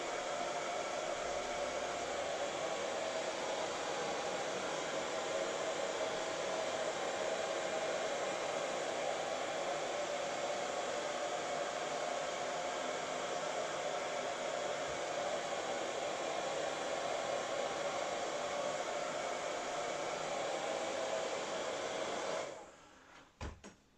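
A heat gun blows hot air to shrink plastic covering on a large-scale RC model, a steady, close whooshing drone that holds for over twenty seconds before it cuts off abruptly near the end.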